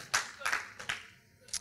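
A handful of separate, scattered claps ring out from a church congregation during a sermon, four or so distinct hand claps spaced unevenly with quiet gaps between them.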